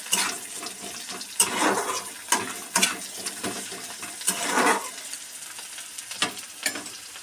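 Spice tempering frying in a pan for a curry, with bursts of crackling sizzle and stirring scrapes coming in uneven waves at moderate loudness.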